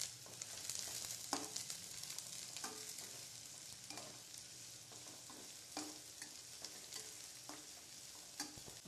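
Sliced big onions and curry leaves sautéing in oil in a kadai, a soft steady sizzle broken by repeated scraping stirs at an uneven rhythm, fairly quiet and with no voices.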